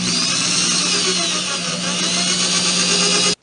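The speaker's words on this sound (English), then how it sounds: "I marked where the holes need to go, and I will drill them" A power drill bores holes in a kitchen pantry cabinet door with a 3/16 inch bit, a steady, loud, close whine holding without a break before cutting off abruptly at the end.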